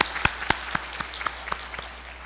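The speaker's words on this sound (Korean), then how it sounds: "찬양을 부르신 우리 할렐루야 성가대에게 다시 한번 박수를 부탁드리겠습니다" A church congregation at a Sunday afternoon worship service applauding the choir, with loud, distinct, evenly spaced claps that soften and thin out toward the end.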